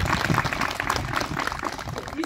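Audience applause at a government community event for the Oraon tribal society, dense clapping mixed with crowd chatter and voices, fairly loud and continuous throughout.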